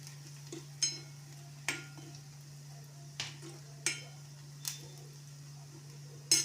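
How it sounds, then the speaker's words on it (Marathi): Spices for matki usal being sautéed in a pan, with a utensil scraping and tapping the pan in sharp, regularly spaced strokes over a faint sizzle and a steady low hum, close up and quiet. "याच्यामध्ये हे मसाले घालूया सगळे चांगले याच्यामध्ये परतून घेऊया"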